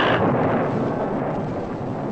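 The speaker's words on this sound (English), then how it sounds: "Roll the thunder." Thunder sound effect from a 1950s–1970s grindhouse drive-in movie trailer: a loud, deep, continuous rolling rumble that fills the whole stretch without pause and fades only slightly toward the end.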